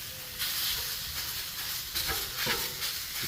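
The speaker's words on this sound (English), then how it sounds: "So I am going to put that on the griddle." Homemade chorizo sizzles on a hot griddle, a steady broadband hiss with small pops and crackles rising now and then, close and even throughout with no talk.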